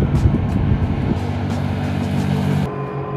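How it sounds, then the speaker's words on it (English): Speedboat passing on a lake, a loud close motor roar with water wash that holds steady, then drops off sharply near the end. "speedboat."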